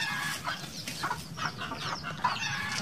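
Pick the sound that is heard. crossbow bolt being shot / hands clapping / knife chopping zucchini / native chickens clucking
native chickens clucking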